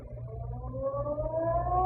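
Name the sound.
ferry building siren sounding, radio drama effect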